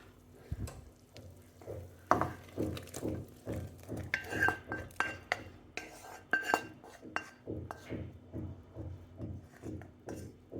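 Metal utensils clink and scrape against a pot as cooked calamari and shrimp are stirred into a Chinese-style soup, with a rhythmic series of close taps and a faint hum, no voices.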